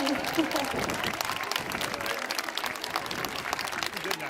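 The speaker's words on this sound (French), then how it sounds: "On va l'applaudir." Aquarium audience applauding at a walrus show, a dense round of clapping from many people, steady and fairly close throughout, with a voice and crowd murmur mixed in.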